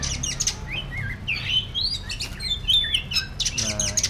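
A kacer (magpie-robin) sings a lively run of sharp chirps, whistles and trills, fairly close and clear over a low background hum.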